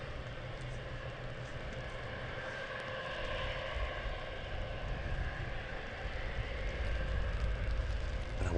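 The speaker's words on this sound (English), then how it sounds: "Sounds like something else taxiing down from taxiway uniform as well." Jet aircraft taxiing on a taxiway at Stansted Airport, a steady broad engine rumble and whine that swells gradually louder and closer across the whole stretch, with no voices.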